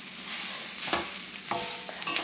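Grated coconut is sautéed in a very hot heavy pan for a village-style masala, a soft continuous frying hiss broken by several sharp scraping stirs of the spoon against the pan.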